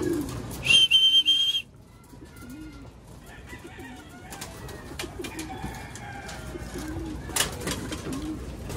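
Pigeons in a breeder's loft coo softly in low repeated burrs, with a brief loud bright whistle-like burst near the start and faint background noise.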